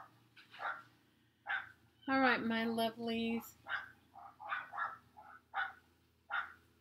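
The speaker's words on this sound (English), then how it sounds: "So the dogs won't be there barking." Dogs bark across the street, a series of short, distant yaps and woofs spread through the stretch, with someone speaking over them briefly.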